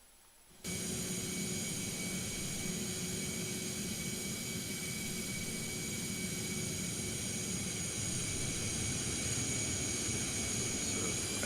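An A321neo airliner landing in the X-Plane 12 flight simulator, with steady loud engine and wind roar plus a constant whine that starts abruptly after a quiet moment and holds evenly to the end.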